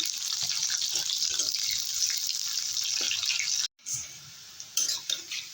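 Chopped onions frying in hot oil in a pan for a fish curry, giving a continuous bright sizzling hiss that briefly cuts out, then returns more unevenly with faint crackles.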